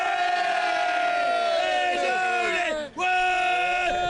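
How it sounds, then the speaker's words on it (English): A rugby club crowd at a team cup event yells and chants together, a loud sustained mass of voices with rising and falling pitch, breaking off for a brief instant before surging again. "Can we have a little banter from the crowd?"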